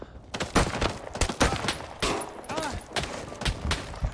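Sustained gunfire in the World War battle game Rising Storm during a village defence, with rapid overlapping shots and bursts from several weapons at varied distances, continuing steadily under a voice talking.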